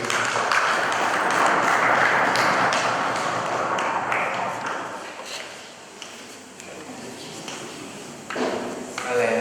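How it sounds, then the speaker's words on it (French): Applause from an audience at a plenary session of a Lasallian student parliament fills the first half as dense, close clapping, then thins and fades while a voice talks. "Venez, on les applaudit, s'il vous plaît."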